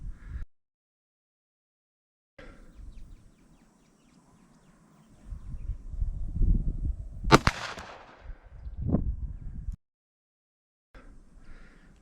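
A Ruger GP100 revolver fires during ammunition testing: one sharp, loud crack stands out in the middle, framed by low rumbling and handling noise with stretches of silence around it.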